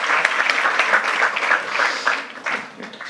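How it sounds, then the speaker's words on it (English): A crowd claps warmly for the first startup at a circular-economy pitch event, steady applause that thins out and fades toward the end. "can I have a very big applause"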